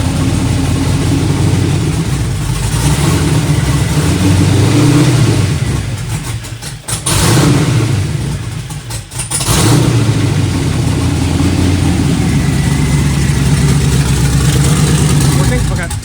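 A 1972 Chevrolet Nova with a swapped LS 5.3 V8, BTR cam and built 4L60E automatic revs in drive, a loud steady engine drone with two brief dips, while people talk over it.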